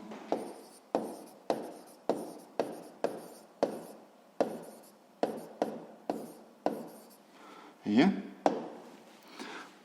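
Pen strokes scratch across paper in short, regular bursts while a physics solution is written out, close and clear under a voice that talks through the working.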